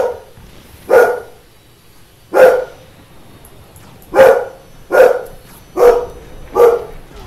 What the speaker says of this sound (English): Sorry, my dog just decided to bark randomly.